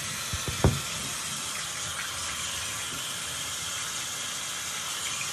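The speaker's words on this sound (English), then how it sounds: "Now I'm gonna rinse it off." Water from a tap runs in a steady, even hiss for rinsing off a chemical peel, with a few brief clunks near the start before the flow settles.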